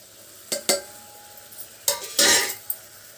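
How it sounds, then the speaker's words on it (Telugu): A spoon stirring chili powder and coriander powder into chicken in a pan, with a few close scrapes and clinks and a brief burst of sizzling scraping in the middle. "కొంచెంసేపు కలిపెట్టుకున్న తర్వాత"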